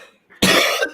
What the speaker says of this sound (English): I still haven't recovered this cough